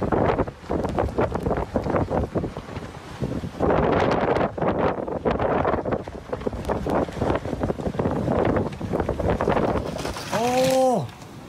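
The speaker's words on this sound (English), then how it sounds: "We got some pretty heavy wind gusts from time to time." Heavy wind gusts roar through a park during a historic Colorado blizzard, loud, broadband buffeting close to the microphone that surges and eases throughout, with a brief voice near the end.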